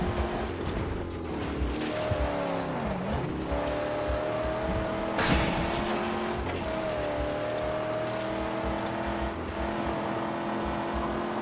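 Car driving and racing in the Mad Max video game: a loud, continuous engine roar with revving pitch sweeps and tire squeal, with no talk over it.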